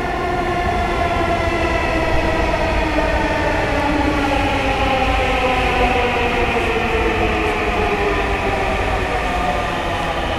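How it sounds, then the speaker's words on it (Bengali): A metro rail train arrives at a station with a loud, continuous rumble and layered drawn-out tones that slowly shift in pitch, sustained throughout without any talk. "ফাইনালি ট্রেন চলে আসছে, এই যে মেট্রো রেল"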